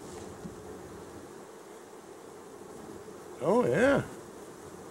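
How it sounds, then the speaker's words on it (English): Honeybees from a large colony drone steadily around a hive, a soft continuous buzz that stays in the background, with a brief spoken exclamation near the end. "Some bees up there."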